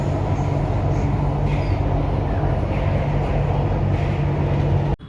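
Inside a moving passenger train, a continuous loud low rumble and drone of the carriage runs without a break, with a steady hum throughout and a sudden cut at the very end.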